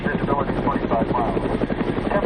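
A Red Cross helicopter flies toward the Iranian border and southern Afghanistan. Its steady rotor chop and engine drone stay loud and close for the whole stretch, with a voice speaking over it.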